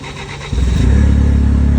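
A Genie GS-3384 scissor lift's engine, switched to gas mode, cranks and catches after a brief moment, then settles into a loud, close, rumbling idle.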